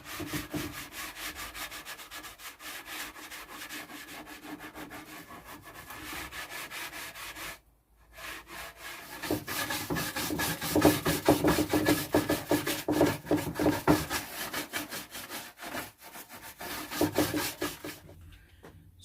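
A bristle brush rubs wax onto wood in a workshop, giving a steady, close, scratchy brushing sound with a short pause midway, then more vigorous strokes. No one speaks.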